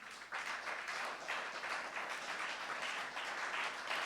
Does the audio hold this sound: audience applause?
yes